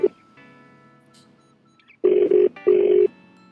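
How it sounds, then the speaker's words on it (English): A telephone ringing during an outgoing call, heard as two loud burst-pairs of ringback tone after a quieter stretch of line tones, with no talking over it. "No, it's ringing."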